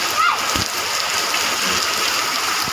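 Steady rain pours down, a continuous close hiss of drops on surfaces with a few heavier splatters, lasting the whole stretch without a break.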